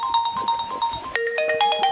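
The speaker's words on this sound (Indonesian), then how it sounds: "Hai, masuk lagi telepon." Phone ringtone for an incoming call during a fishing trip: a bright electronic melody of repeating tonal notes that shifts pitch partway through, loud and close with no talking.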